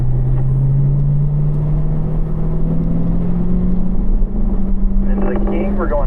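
A race car drives downhill on a track, its engine droning loud and steady with a slowly rising pitch under wind and road rumble, with someone talking over it.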